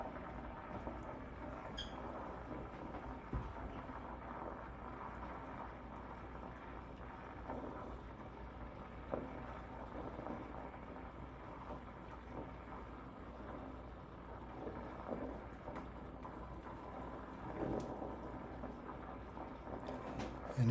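Butter simmers in the first stage of making ghee, a steady, soft crackling hiss like rain on a tin roof, continuous and faint with scattered tiny pops throughout.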